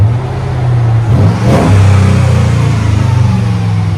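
A Mercedes S55 Kompressor AMG with a 5.5-litre supercharged V8 and an X-pipe exhaust revs loudly up close, climbing into a deep, throbbing roar that holds steady with a pulsing exhaust note.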